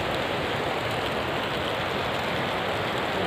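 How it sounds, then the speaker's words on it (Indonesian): Heavy rain pours steadily at a dam where people are fishing, a dense, constant hiss of water on surfaces close by with no voices. "Ya, hujan, bre, hujan."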